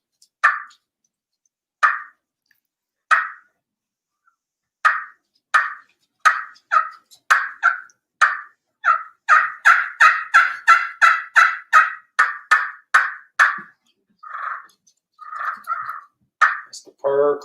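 A person imitates a wild turkey hen, starting with a few spaced single clucks and building into a fast, steady run of clucks and purring rolls, loud and close, with no other sounds.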